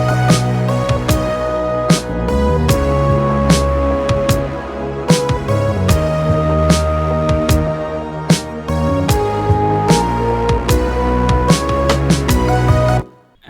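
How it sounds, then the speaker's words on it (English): Synth lead carries a melody in a slow pop post-chorus over a full mix with drums and bass, loud and continuous, with regular percussive hits throughout and an abrupt stop at the end. "I'm following the chorus up with a post-chorus section with a lead"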